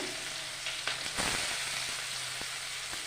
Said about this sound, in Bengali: দেখো, পেঁয়াজ দিয়ে দিচ্ছি তেলের মধ্যে।